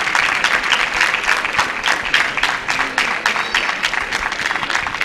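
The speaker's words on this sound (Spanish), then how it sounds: "el aplauso." Graduates and guests applaud at a teacher-training college graduation ceremony, a thick burst of hand clapping that stays loud and steady with individual sharp claps audible throughout.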